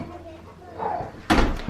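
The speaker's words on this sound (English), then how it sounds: "let me just shut this door because this dog is driving me insane" A household door is shut while a dog is indoors nearby, giving a sharp close thump after a stretch of quiet room sound and faint speech.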